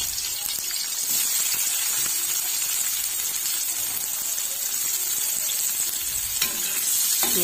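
Onions frying in a little refined oil in a kadai, a dense steady sizzle filling the whole stretch, with a couple of brief knocks near the end and no talk.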